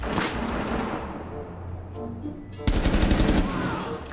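Rapid automatic gunfire in Rainbow Six Siege (Grim Sky season), with steady bursts throughout, a brief lull and then a louder, closer volley near the end; no talk is heard.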